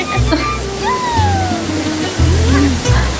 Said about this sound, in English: I wasn't expecting it to be that loud, but yeah, it's a fountain. It's a lot of water